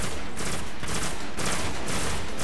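Scout rifle gunfire from the video game Destiny: rapid, loud, evenly spaced shots, about five bursts in quick succession, with no talk.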